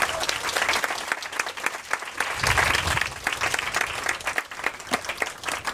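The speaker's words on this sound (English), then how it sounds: "Please join me in honking your horn and clapping for all of them." An audience applauding a panel of writers at a literary event, with dense, sustained clapping that stays loud and even throughout, a faint voice briefly heard beneath it.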